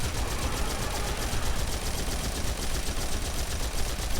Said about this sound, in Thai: อย่างผมนี่ใช้ปืนยิงเหมือนกัน